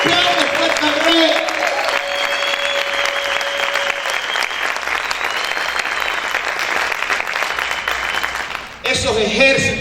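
A church congregation at a discipleship service claps loudly and continuously for nearly ten seconds, dense and steady, with voices calling out over the applause before it briefly drops and resumes near the end.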